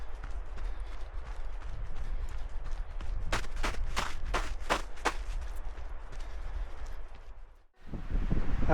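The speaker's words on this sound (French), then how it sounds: "Et tout de suite le vent est beaucoup plus fort." Strong wind on the Pic de la Ginesta summit buffets the microphone in a steady low roar, joined midway by a series of sharp rhythmic clacks, then briefly dropping away before gusting back.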